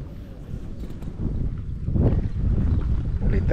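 Strong wind blowing across the microphone at a fishing pond by a boat, a continuous low roaring rumble that swells louder midway, with no speech.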